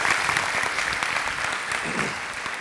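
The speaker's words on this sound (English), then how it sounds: "Give her a round of applause, everybody." Round of applause from a conference audience at a bilingual education event, steady dense clapping that stays loud and even, fading slightly near the end.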